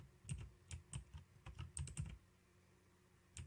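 A mechanical computer keyboard is typed on in short irregular clusters of crisp clacks, fairly close but quiet, then falls silent before one last keystroke.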